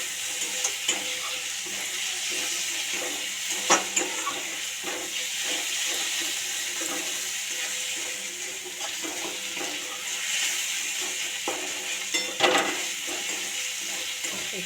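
Grated ginger and two small tomatoes fry in a pan with a continuous oily sizzle and hiss, broken by occasional soft clicks and scrapes of stirring, close and moderately loud.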